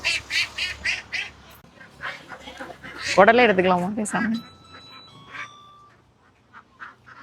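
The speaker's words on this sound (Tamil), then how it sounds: "இங்கே தான் வாத்து மேய விடுவாங்க" Ducks quack loudly in a short burst near a farm pond where they graze, heard amid brief outdoor talk and other scattered animal noise.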